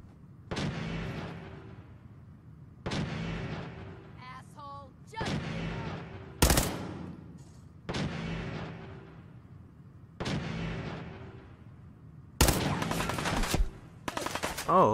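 Enemy gunfire in the video game Fallout 4: a series of loud, sharp single shots roughly every one to two seconds, each with a ringing tail, with a player talking between them.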